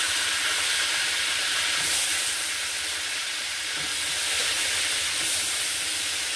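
Eggplant pieces lightly frying in hot oil for sukto give off a steady, dense hiss that holds fairly even for several seconds, with no voices.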